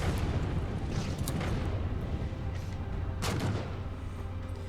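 Heavy turret and cannon fire from the Halo 4 video game, a dense continuous barrage of booming blasts with sharper cracks standing out, loud and steady throughout without any speech.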